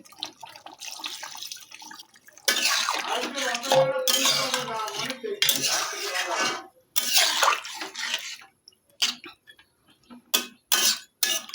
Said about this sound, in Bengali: এখন আলুটা সিদ্ধ হওয়ার মতন পানি দিয়ে দিচ্ছি এর মধ্যে